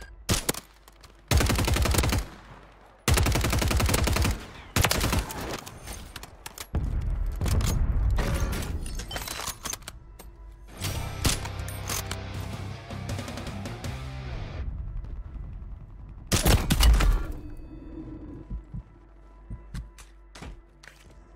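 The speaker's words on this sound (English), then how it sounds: "God, that was a sick gunfight." Loud bursts of automatic gunfire and heavy booms in a Warzone gunfight, several intense volleys separated by short quieter gaps, with mechanical clatter and a lingering rumble between shots.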